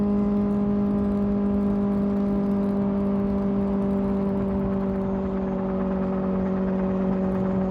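A Kawasaki ZX-4RR motorcycle fitted with a new exhaust idles steadily nearby, a smooth continuous engine drone with a constant pitch and no revving or talk over it.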